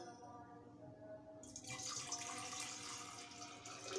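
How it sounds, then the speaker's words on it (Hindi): Water poured into a glass for making lemonade, a rushing pour that starts about a third of the way in and continues steadily, with faint voice-like sounds beneath before it begins. "एक गिलास पानी पहले अम्मी डालेंगी।"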